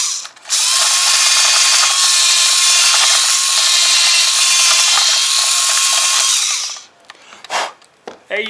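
A power drill bores a hole through a plastic BuzzBee Double Shot toy gun, a loud steady whine lasting about six seconds, then stopping with a few short clicks and handling noises.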